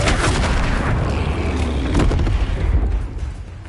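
Flipendo spell cast in Hogwarts Legacy, a loud booming blast with a rumbling, crackling tail that fades over a few seconds, no voice.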